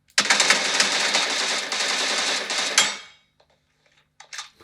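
Rapid automatic gunfire in the mobile shooter PUBG New State, a loud, dense burst of fast rattling shots lasting nearly three seconds, then cutting to silence with a few faint clicks and a brief later burst.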